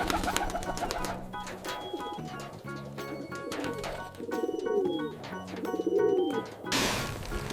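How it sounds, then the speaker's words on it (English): A pigeon on a farm coos repeatedly in soft, throaty bursts over a busy layered backdrop of other sounds, with no speech. "This is a pigeon."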